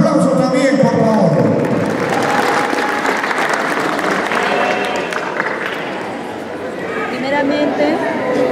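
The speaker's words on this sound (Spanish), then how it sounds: "Un fuerte voto de aplauso también, por favor." Wedding guests applaud at a reception for the bride's godmother, a loud sustained wash of clapping mixed with crowd chatter and cheers, while voices talk over it near the start and end.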